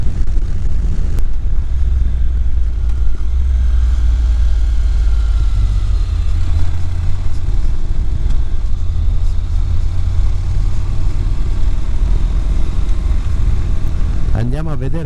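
A motorcycle runs at steady speed on a ride along the Costa dei Trabocchi, its low engine drone mixed with wind rumble throughout, while someone talks over it.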